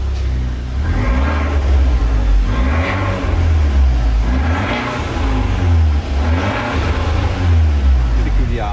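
Fiat 124 Abarth spider with its exhaust valves opened, the engine blipped in repeated loud revs that rise and fall in a pulsing rhythm, close by and throaty, with a voice speaking faintly over it.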